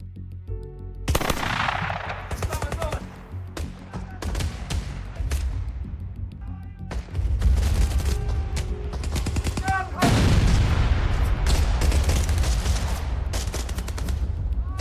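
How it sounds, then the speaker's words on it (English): Heavy gunfire in a Marine battalion fight near a summit, with bursts of automatic fire and scattered single shots from multiple positions, loud and continuous throughout. "As they tried to pull the bodies back, the firing started again."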